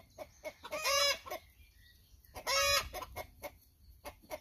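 A hen clucks near a chicken coop in two loud, drawn-out bursts with harmonics, set among scattered shorter clucks and soft farmyard noise, and no one speaks.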